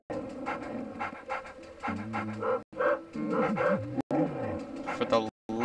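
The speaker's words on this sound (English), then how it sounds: "make that yappy dog be quiet" A small yappy dog in the Luigi's Mansion 3DS game yips, pants and whimpers in quick repeated bursts, with a voice talking alongside.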